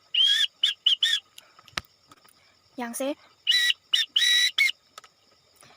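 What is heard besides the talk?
Morse code alphabet whistled with a whistle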